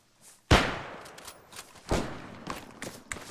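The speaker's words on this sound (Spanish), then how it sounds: "Por la derecha escucho disparos." Gunfire in the military simulation game Arma 3: sharp, loud shots, a big one near the start and another mid-clip, with quieter scattered pops and cracks following in an uneven rhythm, with no talking.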